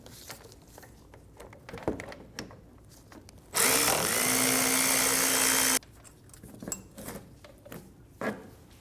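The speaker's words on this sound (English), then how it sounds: "We have two more bolts we have to remove with our 13mm socket." A powered ratchet or impact tool with a 13mm socket whirs loudly for about two seconds, removing a bolt from a 2.5L five-cylinder 2012-2022 Volkswagen Passat during alternator replacement, surrounded by scattered clinks and knocks of metal tools.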